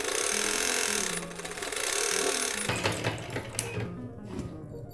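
A sewing machine stitches a size 48 blouse, running in a steady mechanical whir that later breaks into short irregular clicks and clatter, close and moderately loud with no voices.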